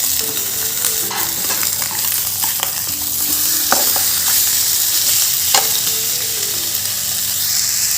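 Pork with colocasia stem frying in its own rendered fat in a pan, with a constant dense sizzle and occasional stirring scrapes, loud and close, with no talk.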